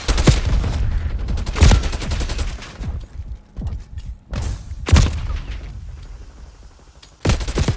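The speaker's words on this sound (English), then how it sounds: "I'm taking fire." Gunfire in Black Ops 6, heavy bursts of automatic fire and sharp shots coming in repeated loud volleys with short lulls between, close and punchy, no talk over it.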